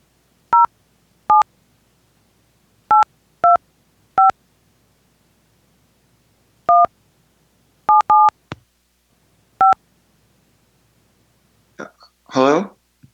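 Telephone keypad tones dial a number as a run of about eleven short, sharp DTMF beeps, clean and isolated against near silence, in uneven groups, ending in a brief burst of other noise.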